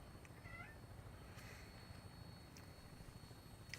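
Cat meowing in Fallout 4, a single short, faint meow early on over steady low background hum and noise, with a few soft clicks afterward.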